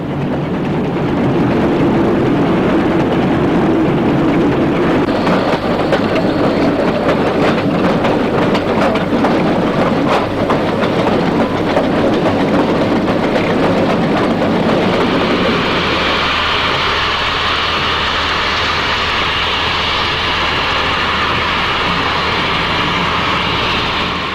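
A class 03.10 Pacific steam locomotive on an East German main line near Neubrandenburg approaches and passes, a loud sustained roar of exhaust and rolling wheels building and then shifting in tone as it goes by, with no voices.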